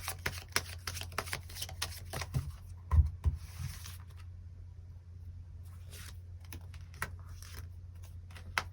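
Tarot cards are shuffled and drawn by hand, close up: quick crisp slaps and riffling clicks come in irregular bursts over a low steady hum.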